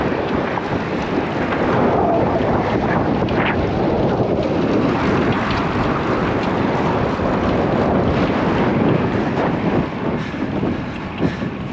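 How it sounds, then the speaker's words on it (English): A strong side wind buffets the microphone on a road bike ride along a frontage road, a constant loud, low roaring rush that fills the whole stretch without a break. "A little bit of side wind from the left side."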